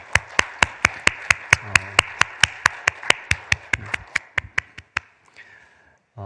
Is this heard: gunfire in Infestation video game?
no